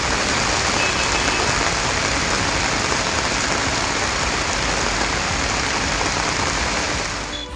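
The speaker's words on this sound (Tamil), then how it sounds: "மேலூர் மற்றும் அதன் சுற்றுவட்டார பகுதிகளில் இரவு முதல் தொடர்ந்து மழை பெய்து வருகிறது" Steady, heavy rain pours in Melur, Madurai district, a dense continuous hiss that stays loud and even throughout, with no voices.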